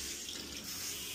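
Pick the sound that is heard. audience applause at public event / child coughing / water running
water running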